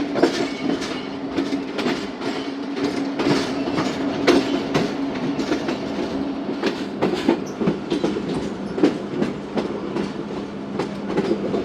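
The Tezgam passenger train runs on rails, rattling loudly with repeated clickety-clack wheel beats over a steady rumbling roar, without voices.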